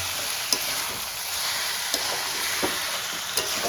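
Chicken with salt and coriander powder fries in a pan for yogurt chicken, a continuous close sizzle broken by regular spoon scrapes and taps as it is stirred.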